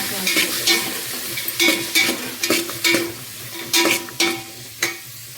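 Potatoes, tomatoes and vegetables sizzle in a hot pan while being stirred, with a steady frying hiss broken by a run of sharp scraping stirs at an irregular rhythm, close and fairly loud, no voices.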